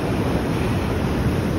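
Strong ocean waves wash steadily at Khao Lak beach in Thailand, a continuous broadband roar of surf mixed with wind across the whole short stretch.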